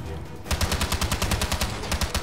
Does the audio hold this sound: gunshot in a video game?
yes